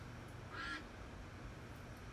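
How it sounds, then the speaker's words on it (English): A single brief, faint duck quack rises over a quiet background hiss during a baseball card box break, with no one talking. "Let's hear them ducks."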